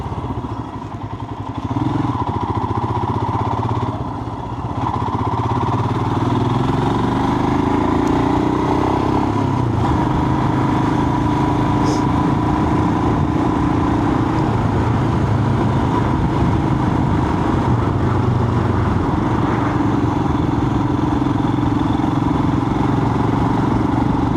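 Motorcycle ride heard from on the bike, a loud continuous engine drone with wind noise that shifts slightly in pitch as it accelerates, steady throughout.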